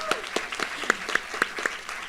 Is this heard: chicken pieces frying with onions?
no